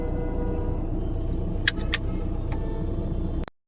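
Road traffic on Bannerghatta Road in Bangalore, heard from inside a vehicle: a continuous low engine rumble with a few sharp clicks and knocks, ending abruptly.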